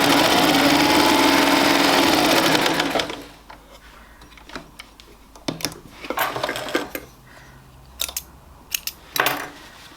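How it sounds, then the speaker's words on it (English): An electric sewing machine runs steadily at its longest stitch setting, a loud, even mechanical whir lasting a few seconds, then stops and gives way to scattered clicks and handling clatter. "So let me just contrast that with a stitch number 6. This one is the biggest setting, the biggest stitch on there"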